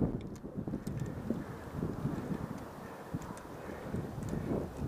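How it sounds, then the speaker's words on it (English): Gusty wind blowing hard on a stormy day among trees being climbed and rigged in Alberton, Montana, a constant rough rumble buffeting the microphone with irregular thumps and rustles. "freaking wind."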